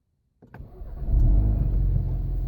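A Ford Focus RS in Nitrous Blue cranks and fires up, catching quickly and settling into a loud, deep, steady idle close by.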